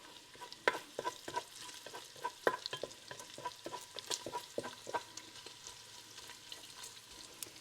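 Chopped bacon cooking in a frying pan for Southern baked beans, a steady soft sizzle broken by frequent sharp crackles and pops, fairly close and on its own with no talking.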